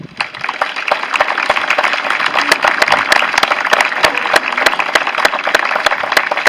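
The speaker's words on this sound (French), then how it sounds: "Nous pouvons les applaudir chaleureusement." A hall audience claps warmly for veterans honoured with the Croix du combattant for service in North Africa, at an 11 November remembrance ceremony in Ruffiac. The applause is dense and steady, with sharp individual claps standing out throughout.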